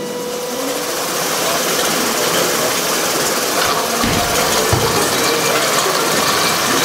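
An Arduino-controlled volleyball setter machine runs its launch sequence, a loud, close, continuous mechanical whir and motor drone that holds steady, with a brief low thump and shift partway through.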